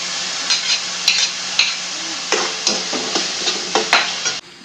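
Boiled cauliflower and carrot stir-fried in hot oil for a fish curry, a constant hiss of sizzling broken by a steady run of spoon scrapes and stirring clacks against the pan.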